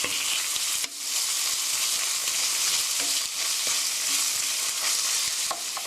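Meat stir-fries in a hot pan with sesame oil for a mapo tofu rice bowl, giving a loud, steady sizzle broken by scraping stirs and brief clatters, with no talking.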